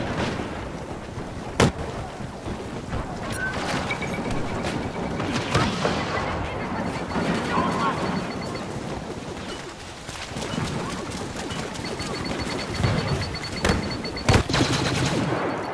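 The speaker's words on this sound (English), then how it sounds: "There's a nice air dogfight going on there" Rapid bursts of aerial dogfight gunfire from a Star Wars Battlefront match, loud and dense throughout, with sharp cracks and distant blasts layered over constant battle noise.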